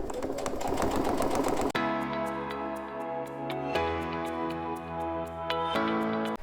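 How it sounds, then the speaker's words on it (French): Sewing machine stitching a seam 2-3 mm from the edge of cotton fabric while making a jewellery pouch, a loud steady close mechanical hum with rapid regular needle ticks, pausing briefly and restarting. "je vais refaire aussi une petite couture comme ça sur le coton à 2-3 mm du bord"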